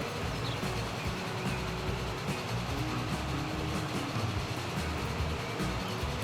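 A train in the video game Transport Fever runs with a continuous rolling rumble and faint rail clatter, steady and moderately loud throughout with no speech.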